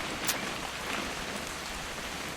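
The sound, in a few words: rain in video game What Remains of Edith Finch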